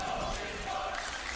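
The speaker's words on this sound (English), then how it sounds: "the crowd's starting to get into it a little bit here" A live esports crowd at The International 2022 Dota playoff match, PSG LGD against Beastcoast, gives a steady wash of cheering and murmur that stays broad and even, sounding distant and unbroken.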